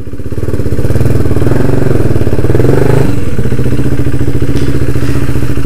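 A motorcycle engine idles loudly and steadily nearby, with a deep rumbling throb and a brief clunk partway through.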